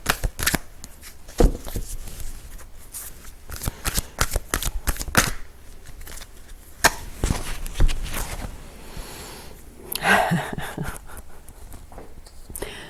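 Tarot cards are shuffled close by in a steady run of riffling and sliding card noise with brief louder snaps, and no talk.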